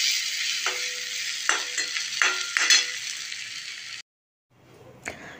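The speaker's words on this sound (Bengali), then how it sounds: "এরপর পেঁয়াজটাকে কিছুক্ষণ ভেজে নেব নরম হয়ে যাওয়া পর্যন্ত।" Onions frying in a pan for a Bengali egg curry with potatoes, a loud continuous sizzle broken by several spatula scrapes and stirs, then a brief silence and a quieter sizzle with one sharp clink.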